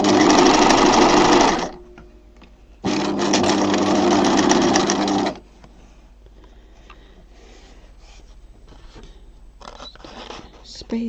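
A sewing machine stitching bunting pieces runs in two loud steady bursts, each a couple of seconds long, then quiet fabric handling and faint clicks follow.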